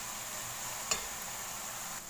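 Broccoli and shimeji mushrooms frying in a pan, a steady soft sizzle throughout with a single brief scrape of a utensil as they are stirred, no voices.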